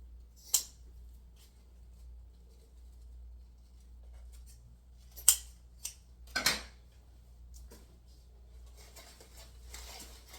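Scissors trim the tails of a grapevine wreath in a quiet room: a few sparse, sharp snips scattered across the stretch, faint handling rustle between them.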